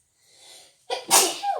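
A single sharp sneeze, up close, preceded by a soft intake of breath.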